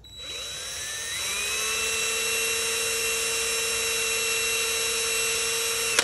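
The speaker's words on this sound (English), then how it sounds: "I'm gonna use the grinding wheel." A grinding wheel spins up over about a second, then holds a steady, loud, high-pitched whine while shaping a reed for a Boxcar Spike jaw harp, ending with a brief knock.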